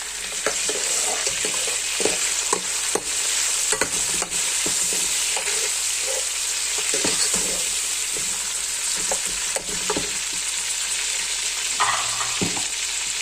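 Mutton for do pyaza sizzles steadily in a hot pan as tomatoes are added and stirred, with a continuous close frying hiss and scattered scraping clicks from the stirring utensil.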